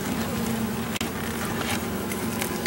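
A constant drone of many honeybees crowded around a top bar hive, heard up close with no pauses, broken only by one tiny dip in the sound.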